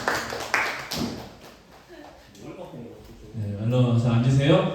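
A church congregation at a joint Sunday school service breaks into applause, a burst of clapping that swells toward the end while a voice speaks over it.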